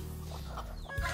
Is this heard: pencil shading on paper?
no